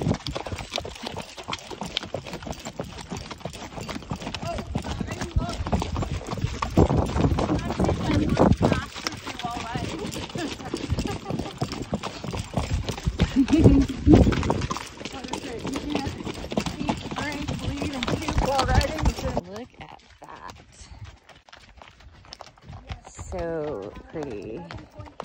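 Horse hooves clip-clop along a trail during the Tevis endurance ride out of Soda Springs, with several horses moving steadily. The footfalls run continuously for most of the stretch, mixed with riders' voices and trail noise, then quiet near the end.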